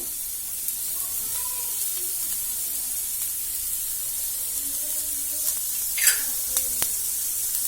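Finely chopped garlic and ginger sauté in hot oil for a homemade samosa filling, giving a steady, soft sizzling hiss with a few light crackles near the end.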